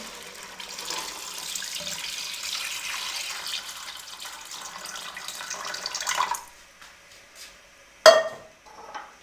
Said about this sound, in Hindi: अब इसमें 3 कप पानी शामिल कर देंगे।